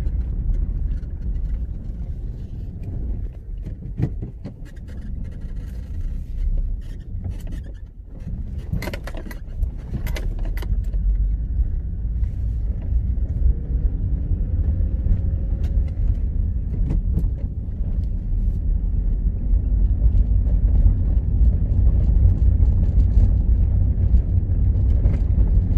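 Car rolling through the main gate into Pacific Golf Estate apartment complex in Dehradun to park, a steady low engine and road rumble throughout with occasional rattles and wind buffeting, no talking.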